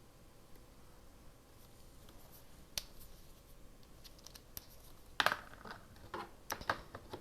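Scissors cut through craft material in sparse, quiet snips that cluster into a quicker run of crisp cuts near the end, with no one talking.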